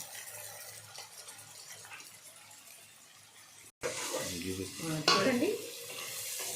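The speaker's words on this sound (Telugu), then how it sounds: "ఆనియన్స్ ఇంకా వేగాలి" Onions frying in a pan for a mutton kurma, a steady sizzle with scraping stirs that grows louder and busier in the second half after a brief break, with a voice talking over it.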